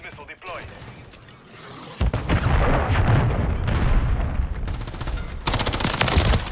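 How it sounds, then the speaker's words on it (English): Cruise missile strike in a shooter video game, heard as loud booming blasts and rolling crackling gunfire-like bursts that swell from about the two-second mark and keep going, with brief voice chatter over the top. "Friendly cruise missile deployed."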